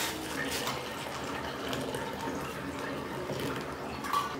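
Boiled water is poured into a bowl of sago for homemade vadagam, making a steady splashing, trickling flow that runs continuously with small bursts, close and fairly loud.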